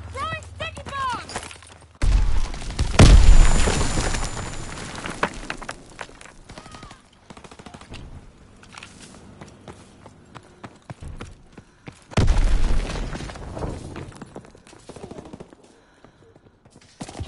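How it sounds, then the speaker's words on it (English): Sticky bombs and gunfire in a PS4 shooter game: loud bursts of blasts and rapid shots in clusters around two and twelve seconds, separated by quieter stretches of scattered distant firing. "Throwing sticky bombs!"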